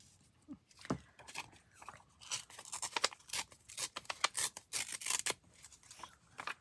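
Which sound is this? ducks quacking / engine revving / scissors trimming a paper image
scissors trimming a paper image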